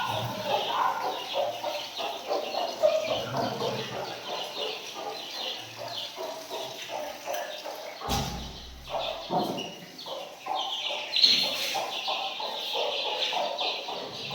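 Young chickens kept in a farm room cluck and chirp continuously at moderate volume, with a brief thump partway through.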